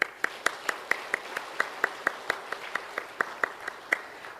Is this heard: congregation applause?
yes